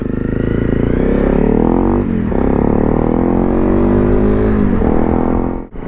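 A Honda CRF 250 Rally motorcycle ridden through a quiet village, its engine revving loud and close with rising pitch, briefly dipping at two gear changes before climbing again, then cutting off at the end.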